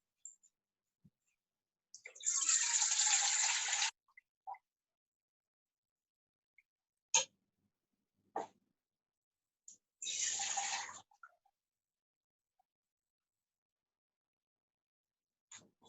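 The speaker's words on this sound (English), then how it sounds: "I'll just fill the water first." Water from a tap runs into a pot for pasta in two separate bursts of about two seconds and one second, with small clinks and knocks from the pot between them in an otherwise quiet kitchen.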